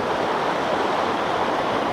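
Water in a creek rushes steadily at a crossing, an even broadband wash like flowing current close to the microphone, with no voices.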